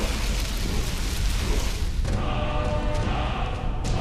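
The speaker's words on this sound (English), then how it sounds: "Storm call. Shout to the skies, a cry to the clouds. Awakens the destructive force of Skyrim's lightning." Storm Call shout in Skyrim, a rumbling thunderstorm with rain-like wash and dull booms, loud and steady throughout, swelling after a brief dip.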